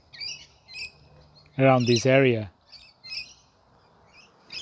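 Australian king parrots give a few short chirping calls amid brief harsh squawks, near and fairly loud, while someone speaks briefly in the middle.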